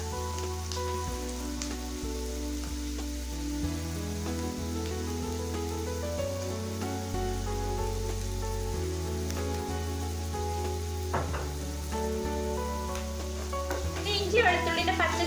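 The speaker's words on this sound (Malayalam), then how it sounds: "ഇനി ബാക്കിയുള്ള 1 ടീസ്പൂണ് സവാളയുടെ കൂടെ ഇട്ടിട്ട് നമുക്കൊന്ന് വഴറ്റിയെടുക്കാം" Sliced onions with ginger-garlic paste sizzle and crackle steadily in a hot pan while being stirred, a continuous frying hiss beneath background music.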